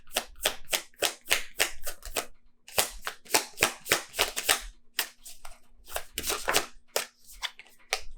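Tarot cards being shuffled by hand during a reading, bursts of crisp riffling and slapping strokes in quick rhythmic clusters, close and clear with brief pauses between shuffles.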